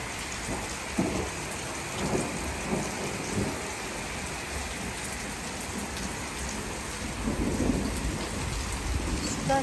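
Steady heavy rain pours on surfaces during a thunderstorm, with low rolling thunder rumbling underneath the constant hiss, no voices.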